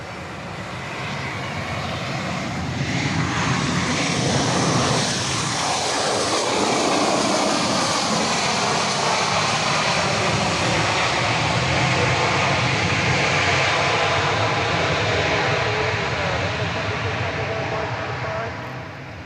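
Jet airliner on the runway at Dallas Love Field at night, a loud, continuous broadband engine roar that swells and holds steady throughout, with faint radio voices beneath.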